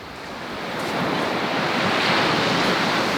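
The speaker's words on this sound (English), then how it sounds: "there's wind and there's the beach and the water" Ocean surf rolls onto a beach under strong gusting wind buffeting the microphone, a loud broad roar that swells and holds steady.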